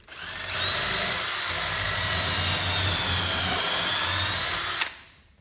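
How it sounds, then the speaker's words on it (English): Power drill spinning up and boring a pocket hole through wood in a Kreg jig, a steady high whine holding for several seconds before stopping abruptly, close and clear with no talking. "We'll start the drill before I engage the workpiece so we don't break the tip"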